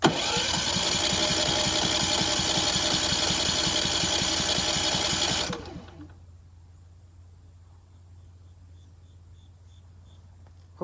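A Predator 5000 generator engine runs on propane with a loud, even chugging drone close by, then cuts out abruptly about halfway through, leaving a faint low hum and near silence.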